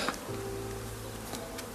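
Honeybees buzz in flight around a hive at a spring apiary, a steady close insect drone with a few passing tones rising and fading, no voices.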